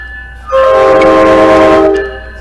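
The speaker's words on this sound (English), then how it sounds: "That horn hasn't changed in over a decade." A loud, close train horn sounds at Encinitas station on the Coaster commuter line, one sustained chord blast about one and a half seconds long with rumbling rail noise beneath.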